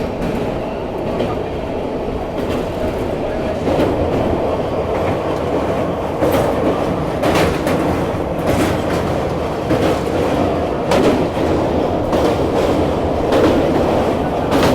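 A train running on a rail route in Bihar rumbles steadily, with rhythmic clickety-clack of wheels over rail joints and the roar of the cars close by throughout.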